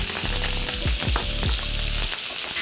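Butter and thyme sprigs hiss loudly in a hot pan beside seared halibut, a steady close sizzle with a few short bubbling pops.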